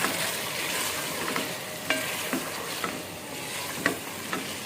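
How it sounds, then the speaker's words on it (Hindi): Potatoes fry with ginger and garlic in a pan, a constant hiss of oil broken by occasional soft scrape-clicks from stirring, close and without speech. "खूब अच्छी तरह से इनको फ्राई करें।"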